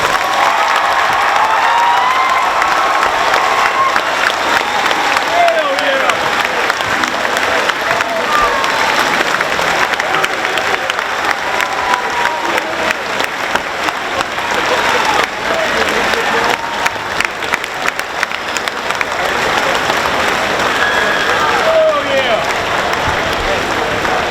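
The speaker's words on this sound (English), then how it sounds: "Please join me one more time in giving our guest speakers one final round of applause." A large school audience of students at a Medal of Honor celebration gives guest speakers a long, loud round of applause, sustained clapping mixed with cheering and shouts filling the room throughout.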